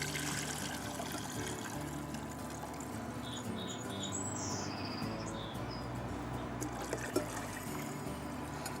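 Water pours steadily into a soup pot of vegetables, a continuous close splashing stream with a faint high squeak partway through and no talking.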